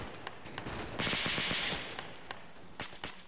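Gunfire rings out in a military video game: scattered sharp single shots and a short rattling burst of automatic fire, mid-distance and fairly loud, with no talking.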